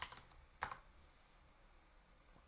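A few faint clicks of keys being struck on a computer keyboard, a quick burst at the start and another near the middle, then quiet room tone with no talk.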